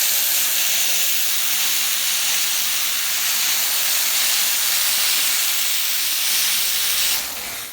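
A chemical-free steam cleaner blasts refrigeration coils with a loud, continuous, close hiss that holds steady and then eases off at the very end.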